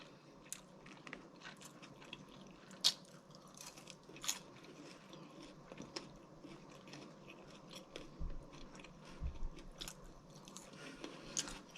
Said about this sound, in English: in this video, she's eating crab